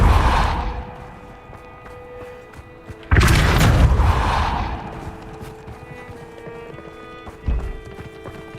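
A spell blast of Depulso in the video game Hogwarts Legacy lands as a sudden loud whooshing burst, followed by a decaying rumble, with a smaller thump near the end amid game ambience.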